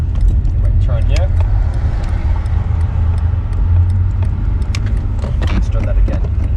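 A manual transmission car driving and shifting up through the gears, a steady engine hum and road rumble from inside the cabin, with people talking over it.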